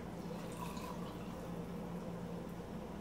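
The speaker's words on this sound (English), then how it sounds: "a cup of the chicken broth that I was cooking the chicken in, but I'm going to pour that in" Hot chicken broth is poured into a blender with cooked chicken, a faint liquid trickle and splash set against a low steady background hum, with no talk.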